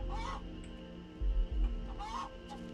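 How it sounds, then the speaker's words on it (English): A chicken in the video game Starfield makes a couple of short clucking, honking calls over a steady ambient hum, fairly close and moderately loud. "a chicken and it's just suddenly making noise"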